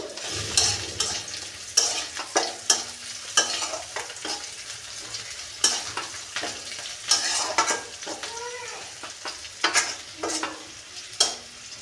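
Spice paste for a lau shak and prawn dish frying in extra oil, stirred steadily: a constant close sizzle broken by repeated sharp scrapes and clinks of a spoon against the pan, no talking.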